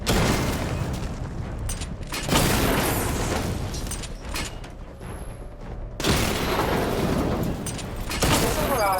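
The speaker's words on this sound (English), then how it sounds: "Destroy targets to charge up weapon energy and activate missile barrage." The Batmobile fires a missile barrage in the video game Batman Arkham Knight, setting off loud, dense rolling explosions and booms in heavy waves, with a brief dip in the middle before the blasts surge again.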